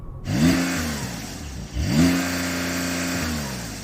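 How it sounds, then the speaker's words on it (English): A Porsche 911 Turbo S engine revs hard twice, each sweep climbing and then holding flat against a soft rev limiter, loud and close with no talk. "Let's have a listen to that Porsche. That's got a soft limiter"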